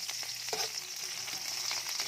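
Onion sautéing in a hot cooking pot sizzles steadily, with occasional stirring scrapes and clinks close by and no talking.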